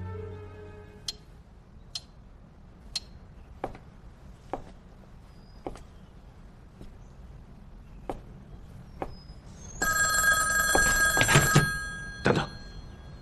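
In a Chinese suspense drama set in Beiping, a clock ticks evenly about once a second in a quiet room, then a telephone rings in loud bright bursts near the end.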